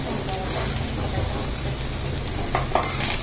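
Dry coconut roasting in a pan for a Malvani crab curry, a dense continuous sizzle with a spatula stirring and scraping through it, close and fairly loud, with low talk underneath.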